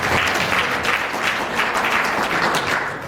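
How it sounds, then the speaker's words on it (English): Applause from the audience at an education and training forum seminar, a dense steady wash of many hands clapping that fills the room throughout, loud and unbroken from start to finish. "can we please give him a round of applause?"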